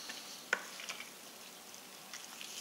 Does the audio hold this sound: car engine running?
no